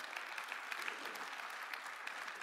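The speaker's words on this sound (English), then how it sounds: "thank you for clapping for that" An audience at a Christmas event at Skybreak claps steadily, a dense wash of many hands applauding at a moderate distance for a couple of seconds.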